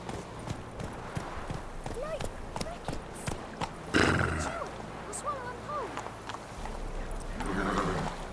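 Steady hoof clip-clop of Geralt's horse Roach trotting in The Witcher 3, with a whinny partway through, while someone speaks over the hoofbeats.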